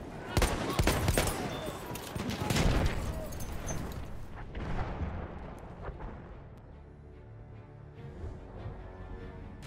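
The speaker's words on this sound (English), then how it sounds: "There! Enemy machine gun!" Enemy machine gun fire in a war video game: dense, loud bursts of rapid automatic shots and blasts for the first few seconds, then thinning into a lower rumble of distant gunfire with voices faintly mixed in.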